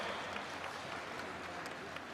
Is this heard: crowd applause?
yes